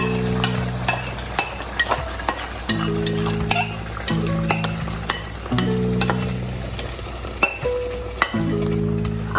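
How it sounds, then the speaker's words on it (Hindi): Chicken pieces frying in hot oil for chicken karahi, a steady close sizzle with repeated stirring and scraping clinks from a utensil, while a low musical backing plays throughout. "ऑयल गर्म हो चुका है, अब हम इसके अंदर चिकन ऐड कर देंगे।"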